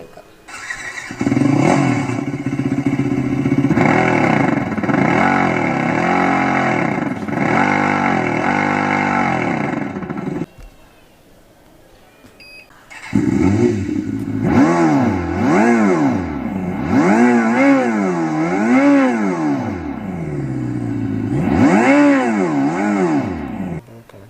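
A Revolt RV400 electric sports bike plays its artificial engine sound effect: loud, synthetic motorcycle-like revving that swoops up and down in pitch, in two long bursts split by a brief near-silent pause.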